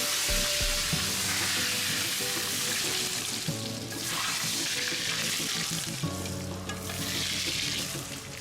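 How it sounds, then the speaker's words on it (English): Hot butter sizzles loudly and continuously in a pan while frying for a traditional Turkish tirit kebab, a dense crackling hiss with faint stirring and clinking throughout. "Fried hot butter."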